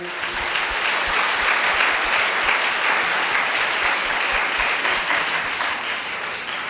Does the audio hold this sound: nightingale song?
no